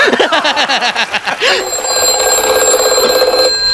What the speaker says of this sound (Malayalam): ആരാ ഈ അസ്ഥാനത്ത് ഒരു ഫോൺ കോൾ